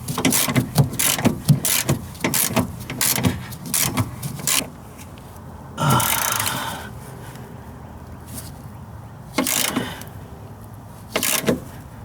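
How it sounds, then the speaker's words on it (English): Control arm bolts are tightened on a Honda Integra rear suspension, with close, quick ratchet clicks in bursts, several sharp metallic knocks, a short rattling spell midway and pauses between the efforts. "so we're gonna just tighten all these bolts down."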